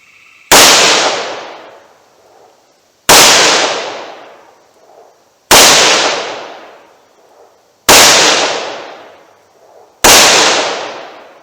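Five sharp, loud gunshots come from a Taurus revolver firing .38 Special Remington HTP rounds. Each is a crack with a ringing decay, evenly spaced about two and a half seconds apart, and no one talks.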